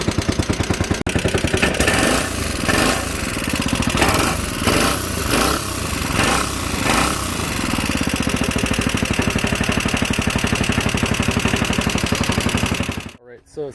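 An 11hp Honda GX200 mud motor on a 10ft jon boat, fitted with a 9 1/2 inch prop, drones loud and close with a buzzy single-cylinder rattle, rising and surging in pitch before dropping abruptly at the end.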